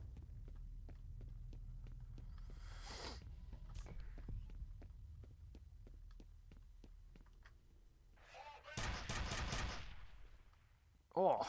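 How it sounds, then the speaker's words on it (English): Rapid assault rifle fire in the shooter game F.E.A.R., a steady train of sharp shots over a low ambient hum, with a louder burst near the end. "It's an assault rifle."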